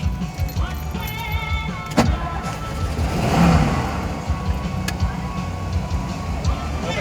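A 1957 Ford Skyliner hard-top convertible engine turns over and settles into a steady running idle, heard close up inside the car with a sharp click near the start and a brief swell midway.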